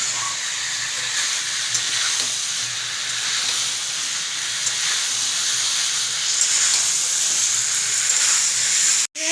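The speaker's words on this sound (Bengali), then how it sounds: "বেশ অনেকক্ষণ ধরে কষিয়ে নিলাম আলু দিয়ে মশলা দিয়ে" Potatoes and spices sautéing in a pan for a Bengali pea curry, giving a steady broadband hiss and sizzle that stays even and fairly loud throughout, with no voices, ending in a brief knock.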